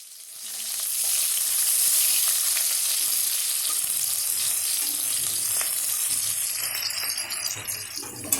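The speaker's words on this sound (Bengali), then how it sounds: "তো পেঁয়াজটা দেখতে পাচ্ছ আধা ভাজা ভাজা হয়ে গেছে।" Onions sizzle and crackle steadily in a hot pan with bay leaf, dried red chilli, cumin, cinnamon and cardamom, cooked for Bengali-style chickpea ghugni. The frying runs continuous and close throughout, with occasional light stirring clinks and no voices.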